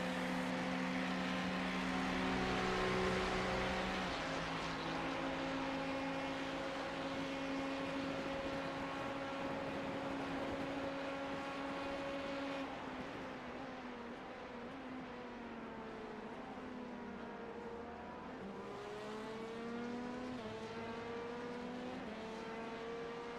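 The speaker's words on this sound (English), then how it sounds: "I'm pretty sure I hear like my own engine echoing off the wall" A race car engine in the 2025 Daytona 24 racing video game drones and shifts pitch continuously, echoing off the wall, with sustained revving tones that rise and fall over a dense, steady roar.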